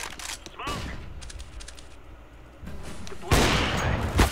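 Gunfire in Counter-Strike: Global Offensive on the Inferno map, bursts of rapid shots and sharper single reports, with a loud close volley near the end.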